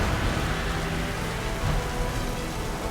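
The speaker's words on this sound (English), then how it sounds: "Suddenly, it started raining." Steady rain pours down in a dense, unbroken hiss of countless drops, constant in loudness throughout.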